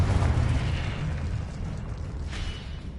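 A Confringo spell explosion in Hogwarts Legacy bursts with a deep boom at the start, then a rumbling tail that slowly fades.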